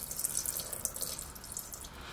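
Water poured from a measuring cup into a pan with salt and light corn syrup for marshmallow syrup, a steady close trickling splash lasting about two seconds, with no talking.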